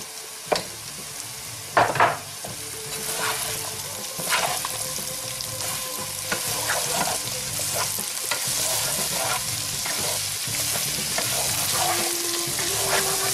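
Onion dropped into a hot pan and frying for lamb liver sarma, with a few sharp clatters at first, then a steady close sizzle with occasional stirring scrapes.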